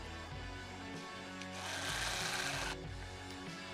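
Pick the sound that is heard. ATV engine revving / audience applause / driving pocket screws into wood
driving pocket screws into wood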